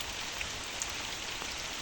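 Steady rain falls at a goat farm, a dense even hiss of drops on surfaces with no voices, holding constant and moderately quiet throughout.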